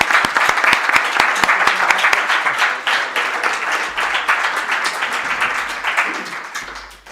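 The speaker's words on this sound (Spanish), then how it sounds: "Pues un fuerte aplauso." An audience breaks into strong applause, opening with distinct individual claps in a quick rhythm before swelling into dense, continuous clapping that gradually thins and fades toward the end.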